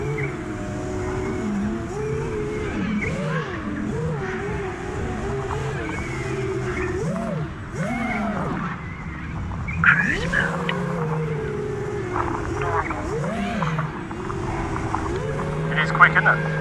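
A Diatone GT-M7 Marauder 7-inch FPV drone hovers and maneuvers around 40% throttle, its motors giving a close, continuous whine that swoops up and down in pitch with each throttle change.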